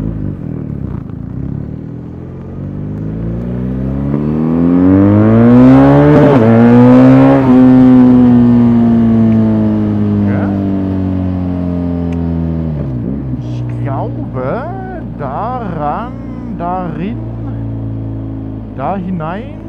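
A BMW R1250RS motorcycle engine accelerates with a smooth rising pitch, swelling loud through the middle and then settling into a steadier drone. Speech-like sounds sit in the background during the later part.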